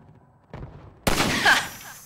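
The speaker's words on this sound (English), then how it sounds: "Let me shoot out the latch." A single sharp rifle shot fired at a ladder latch in Half-Life 2: Episode One, loud and close, following a softer thud, with a ringing tail that fades out.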